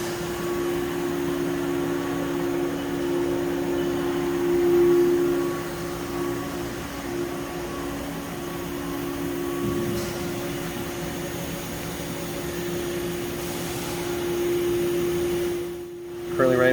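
A Haas UMC-750SS 5-axis CNC machining center spindle running at about 10,000 RPM, giving a steady, faint whine over a constant mechanical hum, with voices in the background.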